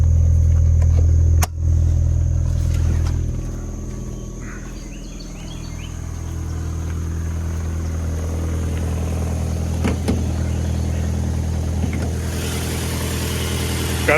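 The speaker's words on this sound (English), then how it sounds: "Got a 2-liter 4-cylinder." A 2-liter four-cylinder car engine idles steadily after a cold start, a low continuous hum heard up close with a faint high whine above it, and a brief clunk near the start.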